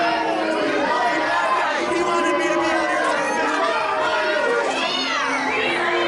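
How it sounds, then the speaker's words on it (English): A wrestling crowd at an indoor show booing the referee's decision, a dense roar of many voices with jeers and shouts rising and falling, fairly loud and sustained. "these fans booing the referee's decision"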